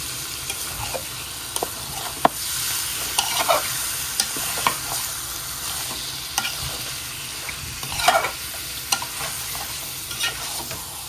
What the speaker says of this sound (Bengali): মাটনটা ভালো করে কষায় নিতে হবে।